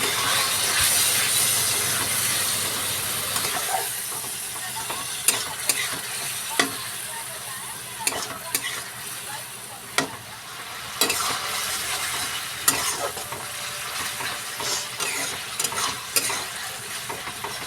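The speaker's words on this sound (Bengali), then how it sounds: "মশলাগুলোকে ভালো করে কষিয়ে নেব" Steady oily sizzle of spices frying in a pan for chickpea ghugni, with scattered scraping clicks of a spoon stirring throughout; no talking.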